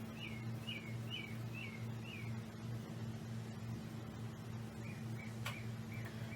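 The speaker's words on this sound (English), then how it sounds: "shout out to the birds for giving us a soundtrack today" Birds singing outdoors, a short repeated chirping phrase several times in a row and then a few more calls later, faint and distant over a steady low hum.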